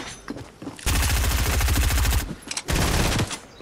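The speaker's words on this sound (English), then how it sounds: "Now, you must have heard gunshots from outside." Rapid bursts of automatic gunfire from a Fortnite battle, loud and close, in two sustained volleys separated by a brief pause, with scattered single shots before them.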